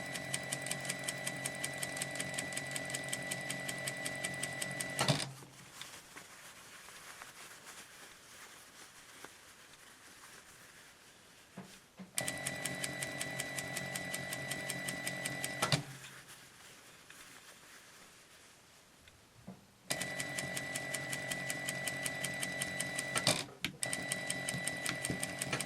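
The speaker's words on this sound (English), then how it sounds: "Now we're going to top stitch along this top edge here" Stitching cotton face-mask fabric along the top edge, a sewing machine hums in three steady runs separated by quieter pauses. The mechanical whir is fairly faint and even, with no talking.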